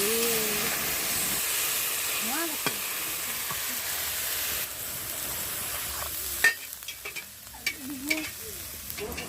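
Dal stir-fried in a pan with a spatula for a banana flower (mocha) dish, with water poured in partway: a steady frying hiss and scraping stirs, then quieter, sharper spatula knocks once the water goes in.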